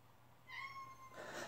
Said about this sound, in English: The damn cat.